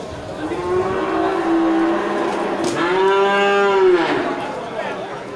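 Limousin cattle at a busy livestock market before Eid al-Adha giving two long, loud, close moos one after another, each a drawn-out bellow over a steady murmur of market noise.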